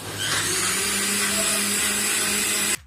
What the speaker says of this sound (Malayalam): നമുക്ക് മിക്സിയിലിട്ടടിക്കാം